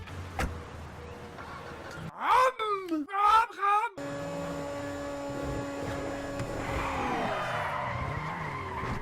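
Ferrari tyres in the video game GTA 5 squeal in a skid during a stunt, a short burst of rising and falling screeches over steady engine drone, then a sustained engine hum with a tonal whine.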